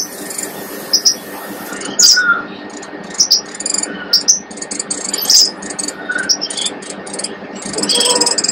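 Small birds on a home balcony where eggs have hatched, giving scattered short high chirps and tweets in irregular bursts over a steady faint background hiss, moderately close, with no talking.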